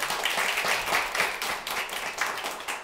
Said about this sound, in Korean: 시인 장석주 선생님 박수로 맞아주시기 바랍니다